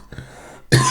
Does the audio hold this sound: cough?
yes